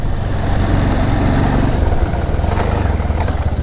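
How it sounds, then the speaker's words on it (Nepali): A new motorbike idles and rumbles nearby in a village, its engine chugging in a steady pulsing beat that shifts slightly in pitch partway through. "कसैले नयाँ बाइक लिएर आइछ"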